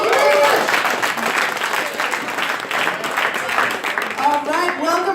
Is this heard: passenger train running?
no